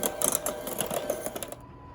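A blender whirs through thick keto dinner roll dough with a choppy, labored mechanical churn, then cuts off abruptly into silence near the end.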